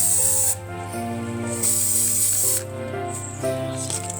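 Another coat sprayed from a can onto a craft made from natural materials: three hissing bursts of spray, the second and third separated by short pauses, close and fairly loud over a low steady hum.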